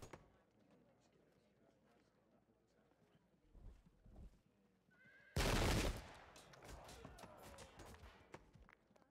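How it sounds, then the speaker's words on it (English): A Napoleonic musket volley of flank fire in the Field of Glory II strategy game: one loud, dense burst of crackling gunfire about midway, set against quiet game ambience and faint horse sounds. "Clearly flank fire right into those guys."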